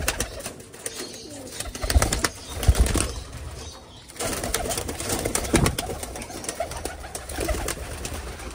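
Baby pigeons being trained coo softly while wings flap in bursts, with rustling movement nearby throughout.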